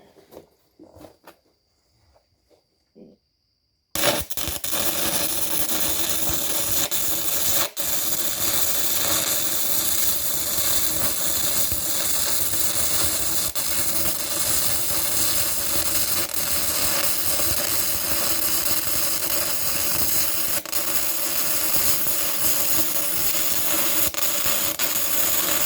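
An arc welder restarts an old E6010 stick electrode at around 85 to 90 amps. After a few seconds of near-quiet, a loud, continuous crackling hiss bursts in and holds steady to the end.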